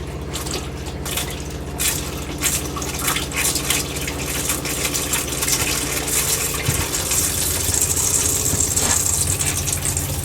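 An RV water pump pulls water from the freshwater tank to fill the water heater, a steady rattling hum with trickling, sputtering water and irregular knocks, continuous and close.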